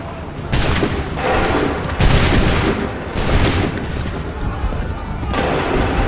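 Musket volley fired on command on a battlefield in Assassin's Creed 3, with repeated loud crackling bursts of massed gunfire rolling one after another over a dense battle din.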